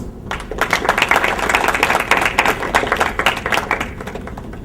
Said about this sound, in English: So by giving a clap, we will give them our respects.